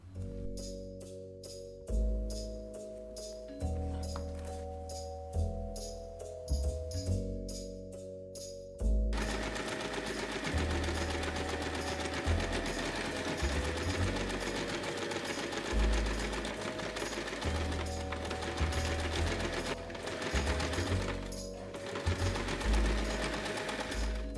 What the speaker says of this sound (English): Place the bow on your pouch and secure it with clips. Stitch all the corners.